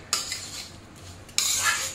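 A spoon scrapes and stirs hot flour mixture in a kadhai taken off the heat, two bursts of gritty scraping against the metal pan, close and fairly loud with a quieter stretch between them.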